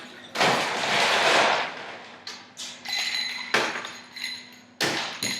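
Ice is dumped out of a chilled cocktail glass, a rush of clattering cubes followed by several sharp separate clinks and knocks of glass, close and fairly quiet.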